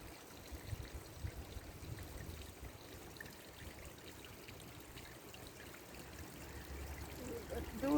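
A little stream in Stockton Bury Gardens trickles on steadily, a faint continuous wash of water with a low rumbling undertone, heard alone throughout.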